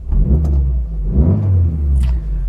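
An Austin 1300GT with a 1275cc twin-carburettor engine idles and revs nearby with a deep, throaty rumble, rising and falling in two swells with no talking.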